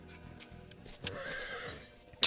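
A horse mount in the online game Final Fantasy XIV gives a clear, fairly close whinny over faint game ambience with light hoof-like clops, no talking.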